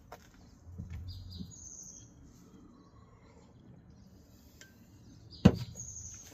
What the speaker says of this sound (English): All the birds are out.